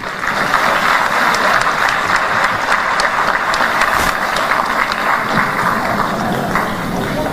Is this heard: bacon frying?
no